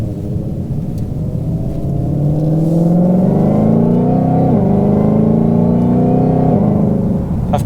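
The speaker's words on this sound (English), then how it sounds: "And you can hear the whine of the supercharger." A 2020 Shelby GT500 accelerates steadily to 60 on a road, its engine note rising in pitch with a supercharger whine layered over a loud, continuous rumble.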